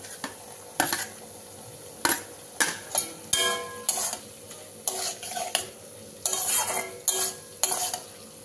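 A spatula stirs paneer cubes with spices in a hot pan, with repeated scraping strokes in uneven bursts over a steady low sizzle, close up and without voices.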